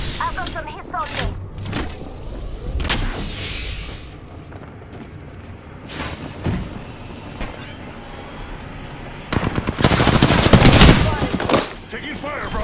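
Gunfire in the Apex Legends video game, with bursts of shots over busy in-game effects and a dense, loud automatic volley near the end, while players talk over it.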